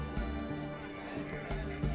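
A horse in The Witcher 3 whinnies loudly over a few thudding clip-clop hoofbeats, close and clear, with a faint murmur of game dialogue underneath.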